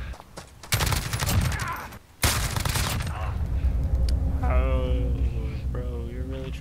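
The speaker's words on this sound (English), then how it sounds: "Oh, he's trying to use a shotgun." Gunfire in the Call of Duty Warzone video game at the Verdansk stadium, with a shotgun in play: loud bursts of shots in rapid succession, a short gap, then another long blast that fades under lingering game noise and electronic tones.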